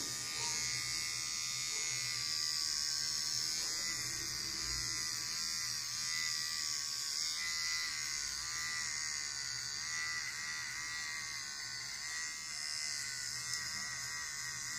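Kemei KM-1974A electric clipper with a size 2 comb trimming a beard, giving a steady close buzzing hum that holds for the whole stretch and shifts slightly as it moves over the hair.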